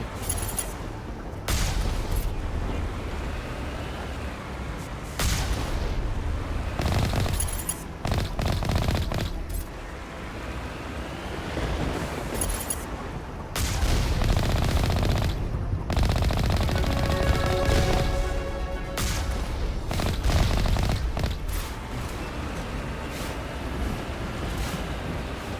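Enemy gunfire in Mass Effect 1 (Legendary Edition), a steady barrage of automatic shots with bursts and booms continuing for the whole stretch, loud and dense with little pause.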